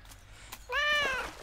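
A cat in the Growrilla VR video game gives a single clear, rising-falling meow after a few soft clicks, close and alone.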